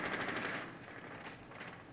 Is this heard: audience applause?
no